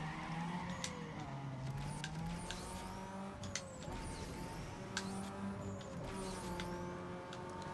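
Drag race in Need for Speed Underground 2: a steady engine roar with rising and falling revs through gear changes, plus brief tire chirps and skid squeals, loud and continuous with no talk.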